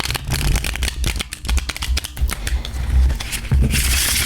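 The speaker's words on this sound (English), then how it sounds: "I like that this is created in a way to be shuffled" A tarot deck being shuffled, with crisp riffling bursts and soft slaps repeating close by, ending in a fuller riffle.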